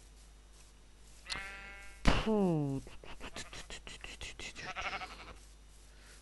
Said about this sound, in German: Das sind alle Schafe.